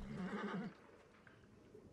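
A horse whinnies briefly in the Assassin's Creed Origins video game, a short fairly loud neigh at the start that fades into quiet ambient game sound.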